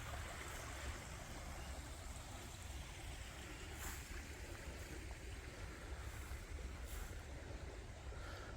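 A steady, rushing flow of water fills the scene, a constant full roar of a creek swollen after heavy rain, with no voices.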